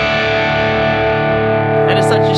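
A distorted electric guitar rings out through a distortion pedal into a 2x12 cab simulation, loud and sustained with thick chord tones, ending with a brief change in attack.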